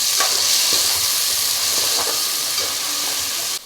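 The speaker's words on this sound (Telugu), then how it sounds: "ఈ ఉల్లిపాయ పేస్ట్ అయితే వేగనిద్దామండి" Onion paste for an egg omelette curry fries hard in a pan, giving a loud, steady sizzle and hiss with faint stirring clicks, continuous and close with no voices.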